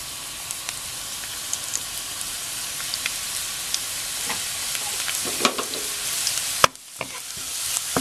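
Garlic hits hot cooking oil with a steady close sizzle and crackle, a brief hiss and a pop near the end, no talk over it.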